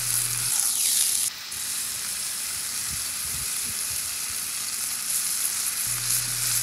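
Smash burger patty tacos with tortillas and Colby Jack cheese fry on a griddle, giving a steady, close hiss and crackle of sizzling fat with brief scraping touches and no talking.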